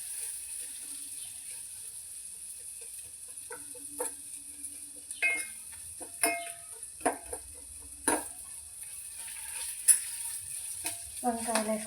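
Sliced onions browning in oil with turmeric in a home kitchen pan, a soft steady sizzle broken by scattered stirring scrapes and clinks, with someone speaking Telugu at intervals.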